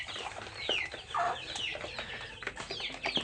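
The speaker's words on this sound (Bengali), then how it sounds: "আমার দেশি মুরগি" Native chickens on a small farm cluck and chatter softly in short, scattered calls, close by, with light rustling in between and no voices.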